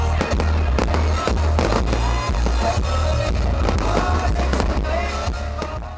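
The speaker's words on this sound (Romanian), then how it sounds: "Un foc de artificii a dat apoi startul distracției din Piața Mare." New Year's fireworks display over a large town square in Sibiu, Romania, with continuous loud booms and crackling bursts layered densely together, a crowd faintly audible beneath.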